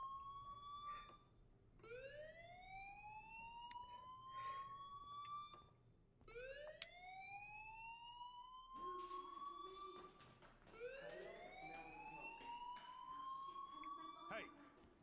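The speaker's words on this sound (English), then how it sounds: "Hey, do you hear that fire alarm? That means you should be outside." School fire alarm in the video game Life Is Strange, a repeated rising electronic siren whoop sounding several times in succession, loud and sustained, with spoken dialogue underneath.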